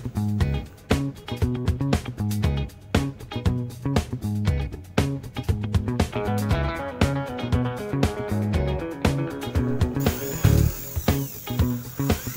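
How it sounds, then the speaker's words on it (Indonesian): A small power drill bores holes through a wooden bedside lamp, a series of rapid whirring bursts starting and stopping in quick, close succession, loud and near. "Pakai bor yang kecil aja, teman-teman, jangan terlalu besar."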